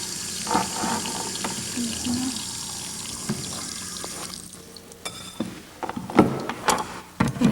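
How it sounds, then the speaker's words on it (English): Water runs and splashes into a blender jar holding onion in a home kitchen, a fluctuating pour with clinks and knocks toward the end, with people talking nearby. "We need some water in our blender, just enough to cover the onion"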